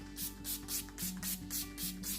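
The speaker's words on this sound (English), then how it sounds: "I am going to spray my setting spray." A quick series of about six hissing spritzes of makeup setting spray from a spray bottle, evenly spaced and close by, with no talking.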